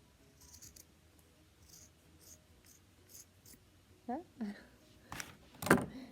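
A few quick snips of scissors cutting, crisp and close, near the end after a stretch of quiet rustling.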